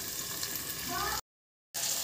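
Tomatoes frying in a pan give a steady, close sizzle, then a brief silence before the hiss resumes.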